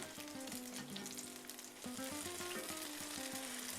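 Zucchini fritters sizzle steadily in a hot pan, a constant loud crackle of frying oil throughout, with faint background music and no talking.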